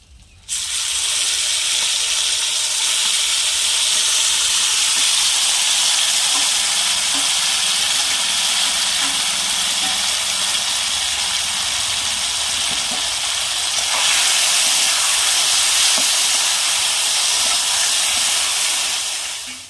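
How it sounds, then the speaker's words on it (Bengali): Steady, loud sizzling from a hot pan right after banana flower is dropped in, a broad hiss that holds for the whole stretch and swells briefly near the end. "মেখে রাখা মোচাটা এবার কড়াই দিয়ে দিলাম"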